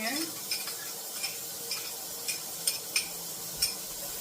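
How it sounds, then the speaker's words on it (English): Onions cooking in a pan for Salisbury steak, a steady low hiss of sizzling with light stirring scrapes and occasional utensil clicks against the pan, close by with no talking. "We're going to take some onions and put them in here."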